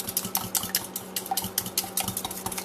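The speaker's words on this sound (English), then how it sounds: "I'm going to take this little teeny whisk and I'm going to stir it with a whisk" A small whisk stirs lumpy sour cream in a bowl, giving a quick, rhythmic run of bright metallic clicks and taps against the bowl, close and clear, with no voices.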